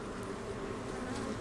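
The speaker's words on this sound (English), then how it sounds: "See how these bees just gather up?" Honey bees buzz steadily and densely across a hive frame during a queenless split check, a close, continuous hum with no talking.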